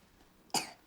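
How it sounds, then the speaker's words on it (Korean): A single sharp cough from a child with a cold, close and brief after a quiet moment. "기침 너무한다"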